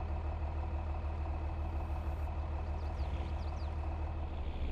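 A John Deere tractor engine runs steadily on a Nebraska farm while bale forks set in the bucket lift a bale. It makes a constant low rumbling drone, close and even, with a few faint high chirps near the end.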